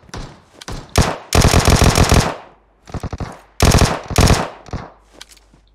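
Automatic weapons fire in the mobile game PUBG Mobile comes as loud, close bursts of rapid shots, several long sprays separated by short pauses and a few single cracks.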